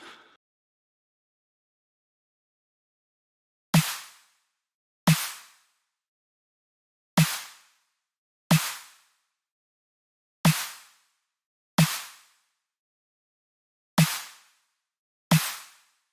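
Eight sharp, isolated snare drum hits with a clipper switched on and off, spaced irregularly with short decaying tails and silence between them.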